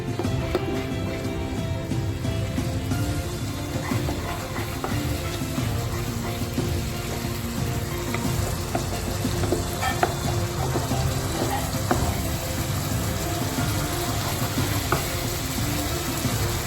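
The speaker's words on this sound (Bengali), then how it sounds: "মশলাটাকে ঠিক এইভাবে নাড়াবো যাতে দই আর খুব ভালোভাবে মিক্স হয়।" Spice paste and yogurt being stirred in a frying pan for a cauliflower roast, with a steady, close sizzle and frying crackle under continuous scraping and stirring, no one talking.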